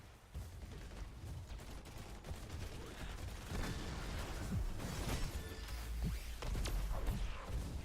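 Rapid bursts of weapon fire and impacts crackle through a Heroes of the Storm match as the Triglav Protector's gun is tested, the game's layered effects dense and continuous at a low, steady level.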